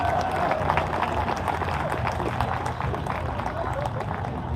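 Audience applause and cheering ring out at a live lab band jazz concert, a sustained wash of clapping from a crowd with a voice speaking over it.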